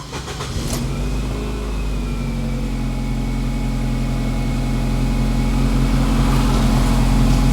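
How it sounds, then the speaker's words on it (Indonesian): A 2011 Nissan Grand Livina 1.8 automatic cranks briefly and settles into a steady idle, its low engine hum close and continuous with a faint whine above it. "Saya akan nyalakan mesinnya."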